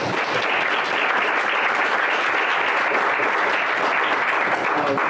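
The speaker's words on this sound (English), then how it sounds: "Still give him a round of applause." Steady, sustained audience applause fills a school board meeting room, dense and even throughout with no voices breaking through.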